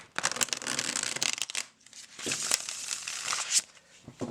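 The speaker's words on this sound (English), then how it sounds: "I want to share how easy this is to shuffle" A Burton's Wonderland tarot deck is shuffled up close, its cards riffling and flexing in crisp, papery bursts with brief quiet gaps, a louder snap near the end, and no voice.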